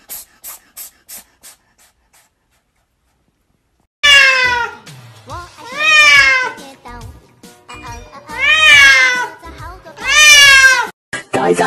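A cat lets out several long, loud, drawn-out meows close up, each one rising and falling in pitch. Faint tinkling taps come first, followed by a short silence.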